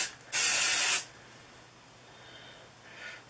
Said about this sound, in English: this Marc Anthony Oil of Morocco Argan Oil, and it looks like it's a hairspray